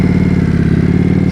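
Indian Scout Bobber motorcycle with an aftermarket exhaust, running with a loud, deep, steady pulsing throb heard close up and alone.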